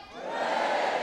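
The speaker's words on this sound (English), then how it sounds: "I want everyone else to cheer 3 times" A graduation ceremony crowd gives a loud, swelling group cheer that rises quickly and holds at full volume as a single sustained shout of many voices.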